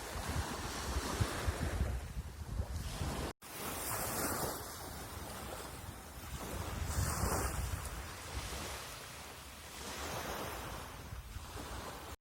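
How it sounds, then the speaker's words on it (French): Ocean waves roll onto the largest beach on the south side of Perhentian Kecil island, Malaysia, a continuous surging wash that rises and falls in slow cycles, mixed with gusts of wind buffeting the microphone. "Me voilà rendu sur la plus grande plage du sud de l'île."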